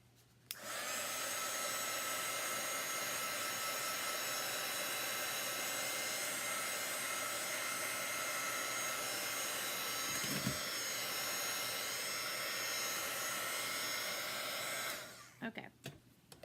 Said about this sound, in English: Let me dry it first so I don't put my finger on it.